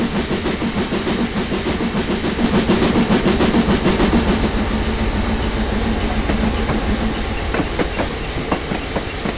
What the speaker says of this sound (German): Da kommt eine einzelne Lok entgegen, ohne Anhänger,